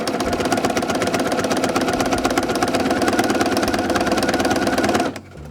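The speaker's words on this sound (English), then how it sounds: "so now I don't even have to press the button, I can just sew" Sewing machine driven by a foot pedal stitches steadily through quilting fabric, a continuous close mechanical whir and rapid needle chatter running about five seconds before stopping abruptly.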